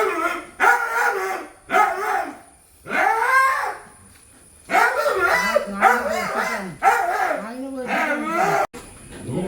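A guard dog barks loudly in repeated bursts with short gaps between them, some drawn out into yelps, close to the listener.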